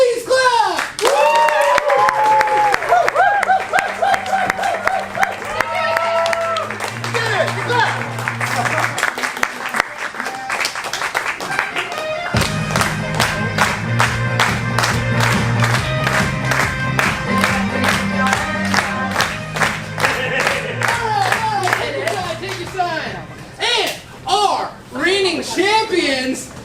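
An audience claps and cheers for a sustained stretch as music plays and voices call out over it, the applause tapering off at the end.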